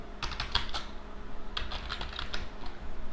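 Keystrokes on a computer keyboard while a command is typed into a terminal, coming in two quick bursts of clicky taps with a pause between them, close and clear, with no voices.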